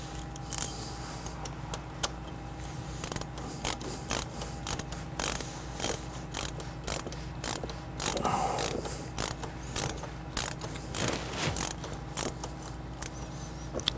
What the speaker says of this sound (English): Next, we're going to hand tighten it with our socket.